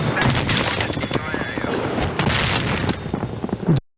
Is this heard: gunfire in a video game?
yes